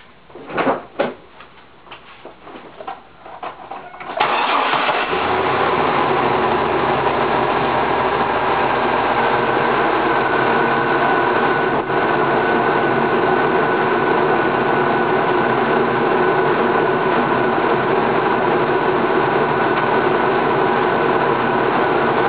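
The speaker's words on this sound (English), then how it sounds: "We're going to start the car" A car in a garage starts during an air-conditioning recharge. A few seconds of quiet clicks and handling come first, then the engine catches and settles into a loud, steady idle that runs continuously to the end.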